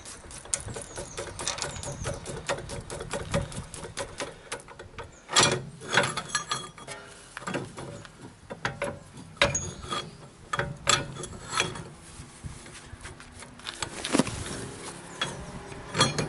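A spanner works on nuts during a rear wheel bearing replacement on a Land Rover Freelander 2, giving close, repeated ratcheting clicks and metallic rattles in irregular bursts with no talking.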